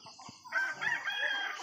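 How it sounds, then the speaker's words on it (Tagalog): A close rooster crow rises and holds for about a second, with faint clucking from other chickens around it. "Bisitahon ni mga manok."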